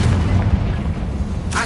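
A booming blast from the Confringo fire spell in Hogwarts Legacy, heavy and low, rumbling on through the short moment with a sharp burst at the end.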